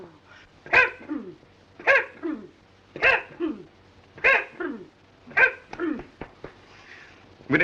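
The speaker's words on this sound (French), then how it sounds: "Et toussez, toussez, toussez." Person in a doctor's examination, from a 1951 French comedy film, coughing repeatedly on command, six sharp hacking coughs at roughly one-second intervals, close and clear, with quieter breaths trailing after.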